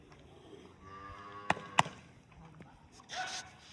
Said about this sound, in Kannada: ಇಷ್ಟೇ ದೇಸಿ ಹಸು ನಿಮ್ಗೆ ಹೆಂಗೆ ಕೇಳುತ್ತೆ